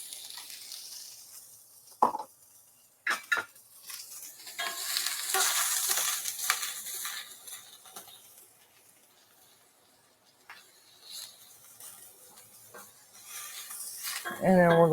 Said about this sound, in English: Always start with the harder vegetable first, which is going to be the onion.